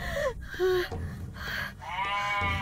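Goats bleating inside a goat pen, several overlapping wavering calls close by, one after another across the moment, with a low background rumble.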